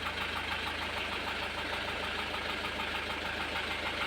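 A car engine idles with a knocking fault, giving a steady low rumble with a fast, even tapping pulse running continuously underneath.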